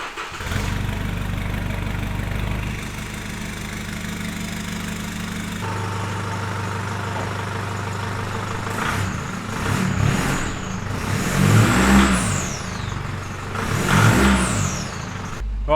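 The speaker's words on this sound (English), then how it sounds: "we're going to take this thing for a drive so we can hear the exhaust" A 4WD engine with a 3-inch exhaust starts, settles into a rumbling idle, then revs up hard twice with a deep throaty exhaust roar, close and loud.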